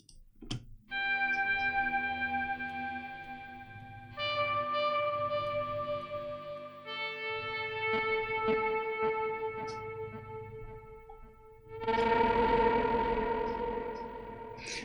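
An electric guitar plays through a full cabinet sound with effects and reverb, sustaining long echoing notes with a slightly distorted edge, then swelling into a louder, denser chord near the end, with no voices.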